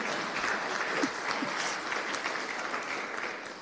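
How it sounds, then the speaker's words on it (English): At a research foundation symposium, a hall audience applauds in a steady, fairly soft wash of clapping that holds evenly throughout. "yes, that gets a big applaud."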